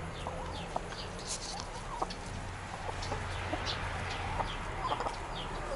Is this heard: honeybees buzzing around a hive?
no